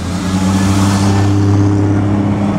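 A loud Ferrari sports car engine revving close by at the 2008 Pebble Beach Concours, a steady deep roar with a rising throaty tone throughout.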